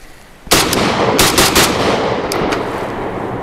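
Rapid fire from an AK pistol with a long barrel, a loud close burst of sharp shots that starts suddenly and carries on with further cracks, with a long echoing tail that rings through the whole clip and no talking.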